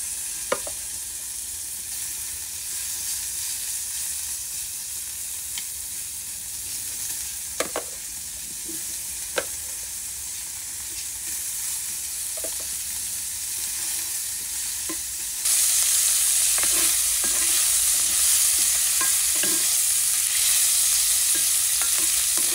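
Beef steak fat frying in a hot pan gives a steady, close sizzle that runs the whole time and grows louder and brighter partway through, with occasional small pops and crackles and no talking.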